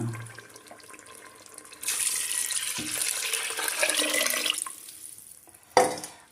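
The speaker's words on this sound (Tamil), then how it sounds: "தண்ணி அளந்து வச்சுருக்கேன் ஊற்றிக்கலாங்களா" Water pours steadily into a pot for a few seconds with a rushing, splashing sound, then stops, followed by a sharp clink.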